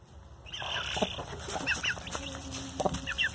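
A hen clucks softly in short, repeated bursts at close range, with quiet rustling in between and no speech.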